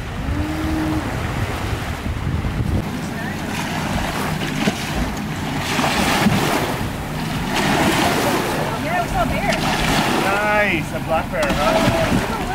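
A boat approaches across open water off Alaska, with wind buffeting the microphone, waves washing, and a steady engine rumble underneath while people talk nearby.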